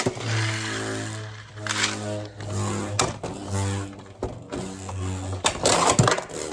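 A Hasbro Beyblade X top whirs and rattles as it spins in a plastic stadium, with repeated scraping knocks and clatters as it bumps the ridges, fairly close and loud.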